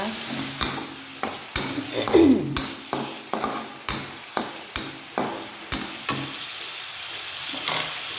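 Bay leaves and lime leaves go into a hot pan for a shrimp and quail egg tauco dish. A sharp sizzle comes with a series of spaced knocks and scrapes as the spoon stirs against the pan.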